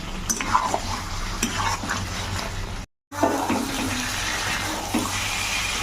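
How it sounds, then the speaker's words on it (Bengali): Mutton gravy with spices stir-fried in a pan: a wet, bubbling sizzle with scraping and stirring knocks, broken by a brief silent gap midway. "ওর ভালো করে কষা নেব।"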